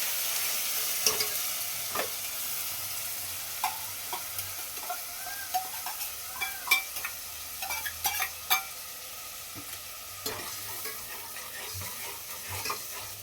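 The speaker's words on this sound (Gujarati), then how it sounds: "એમાં આપણે સેવવાનું છે ડુંગળી." Onion paste sizzles steadily in a hot pan while a utensil scrapes and stirs it at irregular intervals, the frying hiss continuous underneath, with no talking.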